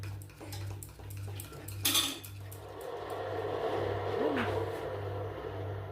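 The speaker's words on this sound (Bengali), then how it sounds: "এই পাউডার সুগার দেওয়ার পর ভালো করে মিশিয়ে নেব যাতে ডিম দুধ আর চিনি ভালোভাবে মিশে যায়" Powdered sugar being mixed with eggs and milk in a bowl for a Christmas fruit cake: a utensil clinks and scrapes against the bowl in quick, uneven strokes over a steady low hum.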